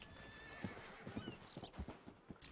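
A horse in a video game whinnies in a thin, wavering call, with soft hoof clip-clops and light scuffs underneath, all fairly quiet.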